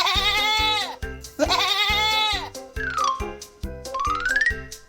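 A goat bleats four times in loud, close, wavering calls, the first two long and the last two shorter and sliding upward.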